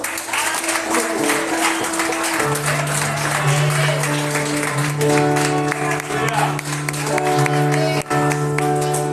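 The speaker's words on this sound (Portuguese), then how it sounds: "Se você quiser aplaudir o Senhor" A church congregation applauds during a service, continuous clapping spread across the room over sustained organ or keyboard chords, with voices mingling in at times.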